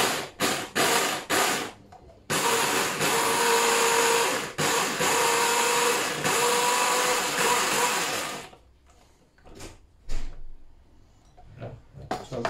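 A blender whizzes onion, four cloves of garlic and ginger for a chicken madras paste, a loud sustained roar running about six seconds after a few short pulses, then stopping to leave quieter clicks and knocks.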